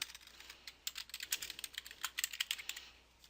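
Quick typing on a computer keyboard, with bursts of light, crisp key clicks in an irregular rhythm. The clicks are close and fairly quiet over a soft background hiss, and no one speaks.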